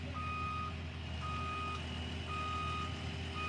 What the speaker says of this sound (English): he's just putting his forks up so he can get out of there